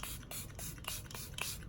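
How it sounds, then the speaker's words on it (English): El Maquillage setting spray mists onto a face in about six quick, soft hissing pumps at a fairly even rhythm, close and faint. "finally, we'll go in with the El Maquillage setting spray"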